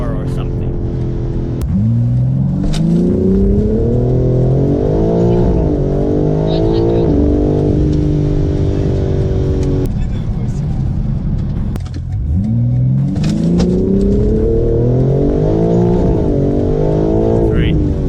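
A BMW M4 G82 with Stage 1 chip tuning roars and revs up in rising surges, twice climbing in pitch and cutting back, with spinning wheels loud and close throughout.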